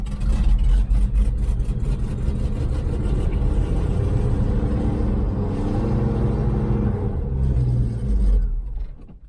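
A 1981 Chevy C30 truck engine runs on choke after sitting a year, with a loud steady low rumble and slight fluctuations in speed that drop off abruptly at the end, close by and without speech.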